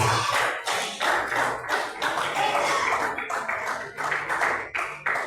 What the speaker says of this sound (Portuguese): Pode dar as palmas bem forte para o Senhor Deus